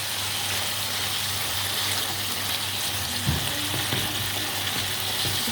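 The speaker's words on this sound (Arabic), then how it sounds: "هنحطوه بقى تتشوح مع بعض تشويحه بسيطه قبل ما نيجي في مرحله التسويه" Garlic and green pepper sauté in hot oil in a pan, giving a steady, loud sizzle with a few soft clinks of stirring and no voices.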